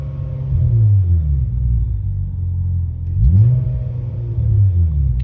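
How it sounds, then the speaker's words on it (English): A naturally aspirated Hyundai Tiburon with a freshly tuned ECU idles with a low, close rumble, then takes a quick throttle blip that rises and settles back toward idle. "Let me blip the throttle a little bit here"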